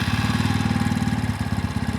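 A motorcycle engine idles steadily and close after the key is turned, with an even, rapid pulsing putter and no talking.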